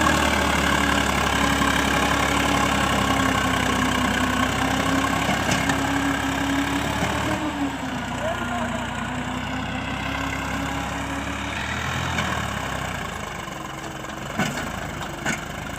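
A Sonalika 740 tractor engine runs steadily at a low idle-like throb with a knocking undertone, close and continuous throughout, dipping slightly in loudness partway through, with no talk.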